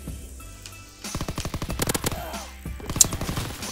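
Rapid bursts of Roblox shooter gunfire crackle loudly after a quiet second, automatic shots firing in quick repeated volleys with a sharp peak near the end.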